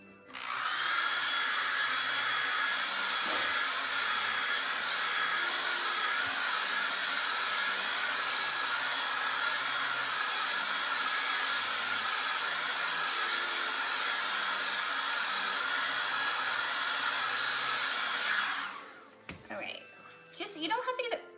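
A hair dryer blows steadily and loudly at close range for about eighteen seconds while drying paint, then cuts off, leaving a few soft handling sounds at the end.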